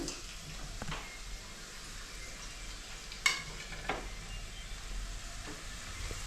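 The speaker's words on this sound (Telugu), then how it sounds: "నూనె కాలిందాము. ఇప్పుడు ఉల్లిపాయ ముక్కలు వేసుకుందాం." Onion pieces fry in hot oil in a pan, a soft, faint hiss with a few isolated clicks and one sharper knock partway through, no voices.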